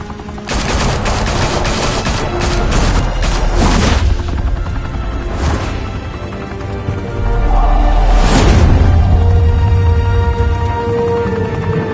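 Heavy gunfire in a Batman video game on PS4, with dense bursts of automatic fire and booming shots filling the whole stretch at close, loud range, briefly easing before a renewed barrage.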